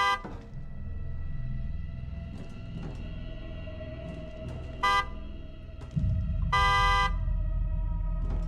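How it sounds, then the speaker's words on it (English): Car horn honked repeatedly in The Evil Within 2 video game, short toots and one longer blast ringing clearly over a low rumbling game ambience, with a heavier droning bed kicking in near the end. "just keep honking the horn"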